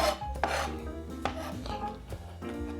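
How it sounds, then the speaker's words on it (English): A sharp kitchen knife minces vegetables on a cutting board for homemade chicken soup, giving a run of quick, close, crisp chops with a steady rhythm. "You just want to give these a good mince. Make sure you have a nice and sharp knife for this."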